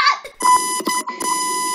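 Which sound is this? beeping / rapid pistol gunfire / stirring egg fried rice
beeping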